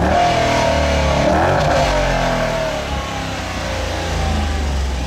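A 2015 Dodge Challenger R/T with a Hemi V8 revs hard and close, a loud sustained growl that swells, eases slightly midway, then builds again with no voices.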